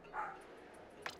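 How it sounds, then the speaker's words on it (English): A dog named Grover gives a single quick bark, fairly faint and slightly distant indoors, followed by a brief sharp click. "you might hear Grover barking in the background"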